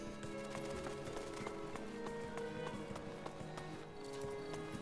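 Galloping horse hooves in the video game Attack on Titan 2 drum a quick, steady clip-clop rhythm under layered game music, holding at an even level for several seconds.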